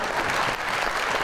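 A television talk-show studio audience claps in a dense, steady burst of applause, loud and close, filling the whole moment without a break.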